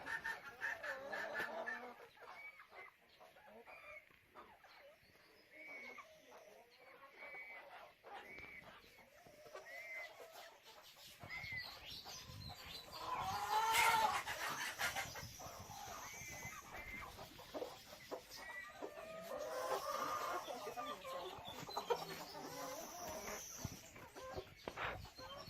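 On a small integrated farm, a rooster and hens cluck and call in bursts over half a minute, some near and some farther off, with a louder flurry midway and a low background rumble.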